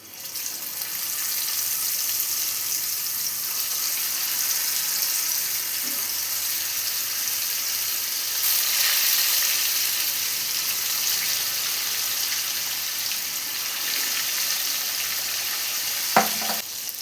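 Pieces of elephant foot yam fry in oil in a pan over a medium flame, giving a steady, close sizzling hiss that swells slightly midway, with a brief utensil clink near the end.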